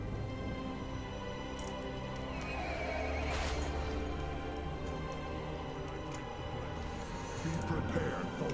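A horse in World of Warcraft: Shadowlands gives a loud whinny over steady game music and ambience, with hoof clip-clops and a second neigh near the end.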